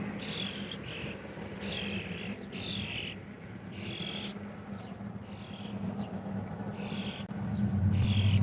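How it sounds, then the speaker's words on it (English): Small birds chirp outdoors in repeated short bright bursts about every second, moderately close, over a steady low rumble of background noise that swells near the end. "we got a bunch of birds out today."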